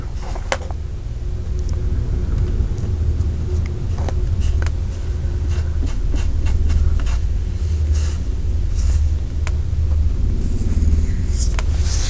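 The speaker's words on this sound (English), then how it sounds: "It's helicopters." Helicopters pass overhead as a constant low rumbling drone, with close scratching and tapping sounds of craft work on top and almost no talk.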